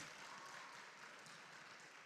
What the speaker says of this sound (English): St. Elizabeth, let me see you clap your hands.